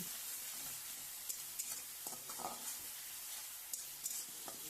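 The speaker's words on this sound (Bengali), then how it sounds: "আমি মশলাটাকে ভালো করে কষিয়ে নিচ্ছি" Spices with turmeric, salt and a little water fry in a pan with vegetables, a steady broadband sizzle running throughout with scattered scraping stirs and small clinks, close and fairly quiet, no voices.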